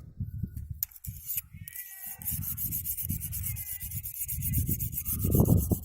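Steady rhythmic scraping of a Yakut knife blade against a sharpener, strokes rubbing back and forth at close range, with occasional faint clicks.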